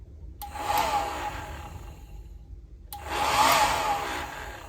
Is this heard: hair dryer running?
yes